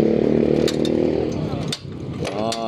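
A 14 wrench tightens a part on the timing chain of a Yamaha Mio scooter, heard as close, loud metallic working noise under a steady mechanical drone with some sharp scraping clicks, continuous through the clip.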